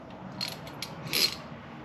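Dyna fork rebuild: a ratchet wrench tightens the bottom bolt of the fork dampener, giving a few quiet clicking bursts with a brief louder one near the end, no talk.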